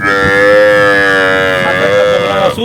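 A Holstein Friesian dairy cow gives one long, loud, sustained moo close by, rich and steady for nearly three seconds before trailing off.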